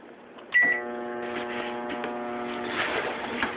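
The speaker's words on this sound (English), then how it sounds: "M&M's in the microwave." A microwave oven running with M&M's inside: a beep at the start, then a steady electrical hum with a buzzing drone and faint rattling throughout.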